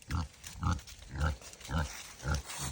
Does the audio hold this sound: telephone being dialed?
no